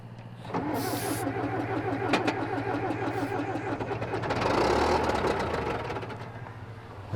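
A John Deere tractor engine cranks over repeatedly in a steady mechanical churn, swelling briefly as it nearly catches before fading back, heard close with a low hum beneath and no speech.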